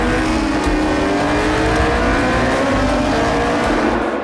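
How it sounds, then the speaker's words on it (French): Historic Formula 2 race cars scream past on the Spa-Francorchamps circuit during Spa-Classic, a continuous loud engine roar with rising and falling pitch as several cars go by. "La journée au Spa Classique a débuté avec des courses de F2."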